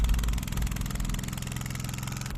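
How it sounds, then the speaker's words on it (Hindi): Small engine driving the propeller of a boat on Katora Lake in Upper Dir, a loud, close, steady chugging drone with a fast rhythmic throb and no voices. "छोटे से इंजन से घूमते प्रोपेलर पानी में लगते ही कश्ती की रफ्तार में काफ़ी इजाफा हो जाता है।"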